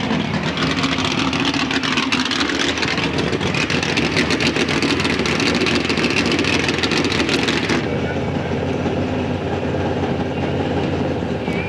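A sprint car engine roars loud and close in the pits at a central Pennsylvania dirt speedway in 1985, a dense continuous racing drone that drowns everything else for the whole stretch, with no talk audible.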